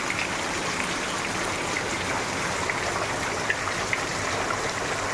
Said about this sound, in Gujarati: જોરદાર વરસાદ પડે છે અમારે અહીંયા